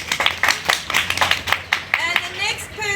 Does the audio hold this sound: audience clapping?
yes